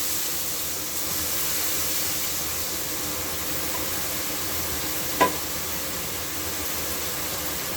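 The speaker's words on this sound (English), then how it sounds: "Let's put our vegetable in the pot." Jamaican curry vegetables going into a pot with curry, giving a steady, even sizzle and hiss that fills the whole stretch, with one brief sharp clink of a utensil near the end.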